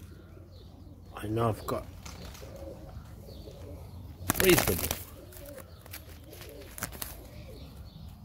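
Soft cooing from Serbian Highflyer pigeons repeats in the background while someone talks over it, with a brief burst of wing flapping midway.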